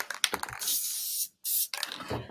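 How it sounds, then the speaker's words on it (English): Spray adhesive hissing from an aerosol can during papercraft work, two sustained bursts, the first about half a second long and the second shorter, close and fairly loud, with a gap of silence between them and handling noise around. "Okay, so I'm going to spray this."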